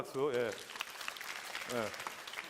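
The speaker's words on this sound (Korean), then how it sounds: "우리 친구들에게 박수" Teenagers at a church youth service clap in a steady patter between brief bursts of a voice, the applause fairly quiet and continuous underneath.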